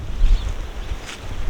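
Wind gusting across an open farm field, low rumbling buffeting against the microphone with uneven surges and a faint hiss, heard alone.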